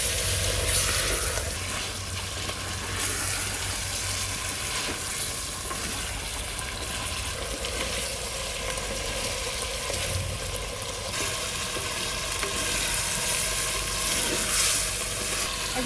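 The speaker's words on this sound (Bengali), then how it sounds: "এই যে মশলার জলটা দিয়ে দিচ্ছি।" Red country chicken handi sizzles steadily in a pan as spice water is added, a continuous close frying hiss with occasional stirring scrapes and no talk.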